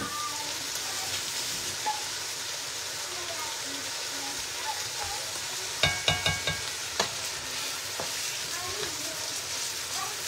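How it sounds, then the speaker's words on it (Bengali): Rice frying in a large pot gives a steady broadband sizzle, with a cluster of sharp stirring scrapes and clinks midway and faint speech at times. "চালটাকে এখন আমি ভেজে নেব"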